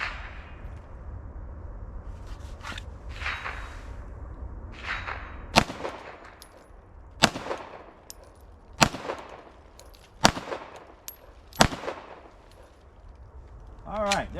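Glock 19 pistol fired at a target 10 yards away, about six sharp, loud cracks spaced a second or two apart, each followed by a short ringing decay, over outdoor background noise with some handling sounds.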